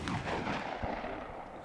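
A Saiga-12K shotgun fires a Lyman clay slug at a 75-metre outdoor range, giving a single heavy, booming report within steady background noise.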